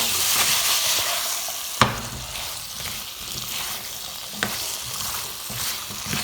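Chickpeas (garbanzo, chana) sizzle and fry in a pan on high heat for a chickpea and potato curry, a steady close hiss with a couple of sharp stirring knocks.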